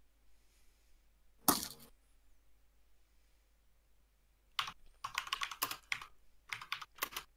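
Bursts of typing on a computer keyboard during an online game session, a short cluster of clicks early on, then a denser run of keystrokes near the end, fairly close with no talk.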